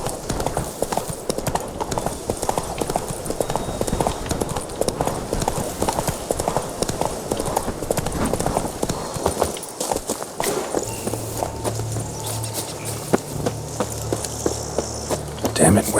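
Horse hooves clip-clop steadily in The Witcher 3 video game, a continuous rhythmic walking beat over faint ambient insect-like noise, easing toward the end as a low tone enters.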